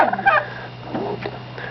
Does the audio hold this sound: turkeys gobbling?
yes